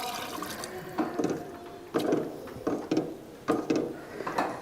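Plain water, two and a half cups, poured into a cooking pot for a vegetarian dish, arriving as several separate splashing pours with short pauses between them, close and fairly loud.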